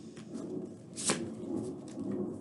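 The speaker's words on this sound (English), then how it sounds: "Want to make sure I'm shuffling them good" Tarot cards being shuffled by hand at close range, a soft continuous riffling and rustling with one brief sharper flick partway through, fairly quiet and steady.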